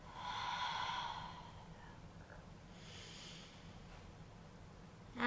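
Breath pushed out steadily during an abdominal core exercise while extending a leg, a soft breathy exhale heard up close and fairly faint, trailing off into quiet room tone.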